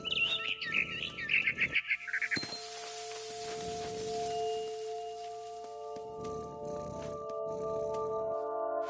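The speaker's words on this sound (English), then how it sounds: "Then I heard chirping outside my window. It was a barn swallow going back to her nest." A barn swallow chirps in a PS4 video game, a quick run of bright, close tweets over a couple of seconds that gives way to sustained tonal game music.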